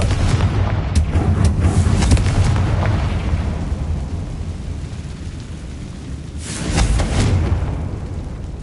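Confringo blasting-spell explosions boom in Hogwarts Legacy, loud deep rumbling blasts with a heavy burst early on and another near the end, with no voices.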